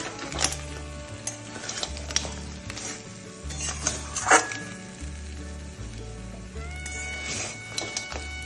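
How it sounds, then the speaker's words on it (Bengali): Sundarban crabs being stir-fried in spice masala in a pan, with clattering shell-and-spatula scrapes and knocks against the pan over a continuous sizzle and a low rhythmic background hum. "এবার কাঁকড়াগুলো দিয়ে আমি ভালো করে কষাবো"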